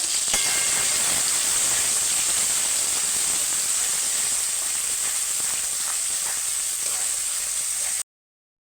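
A spice paste hits hot oil already tempered with dried red chilli and cumin for a pointed gourd dish, giving a loud, steady hiss of sizzling close by that runs about eight seconds and then cuts off abruptly.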